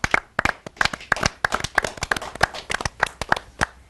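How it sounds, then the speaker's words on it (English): A small audience at a talk show claps for Sachin Tendulkar, a sparse run of distinct, fairly close handclaps in an uneven rhythm rather than a dense roar. "Big round of applause to him."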